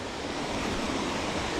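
A waterfall on the Middle Prong Trail rushes in a steady, dense roar of falling water, close and continuous with no pauses, and no voices over it.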